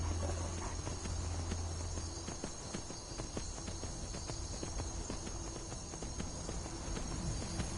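Horse hooves clip-clop at a steady walking rhythm in Skyrim, close and continuous over an ambient game soundscape of faint insect-like chirps, with no talk.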